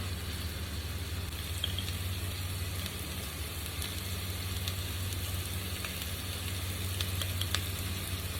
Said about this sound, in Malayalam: ചൂടായ എണ്ണയിലോട്ട് നമ്മൾ അരിഞ്ഞു വെച്ചിട്ടുള്ള ഉള്ളി ചേർത്ത് വെക്കാം